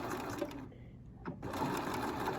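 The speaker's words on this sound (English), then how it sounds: "I've got it on regular stitch, and I'm just gonna come up like this, and I'm just gonna stitch like this." A sewing machine on a regular stitch sewing an invisible zipper, a steady close whirring hum that pauses briefly midway and then resumes.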